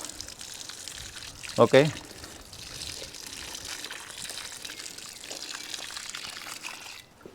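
Water poured from above onto the soil of a potted strawberry plant makes a soft, steady trickle running through the clip, with a speaker talking briefly over it.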